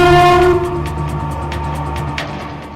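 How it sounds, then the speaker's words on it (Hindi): The Nilanchal Express pulls into platform 4 at Tata Nagar railway station, sounding a long, loud, steady horn that fades out, followed by a rhythmic clatter of wheels rolling slowly over the rails. "टाटा नगर रेलवे स्टेशन के प्लेटफॉर्म नंबर 4 पर नीलांचल एक्सप्रेस धीरे धीरे धीमी पड़ रही है।"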